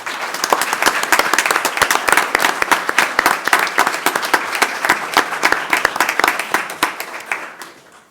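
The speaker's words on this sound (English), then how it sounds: "Let's give her another round of applause." A small crowd at a city commission meeting applauds steadily with dense hand clapping for several seconds before it tapers off, close and with no talk over it.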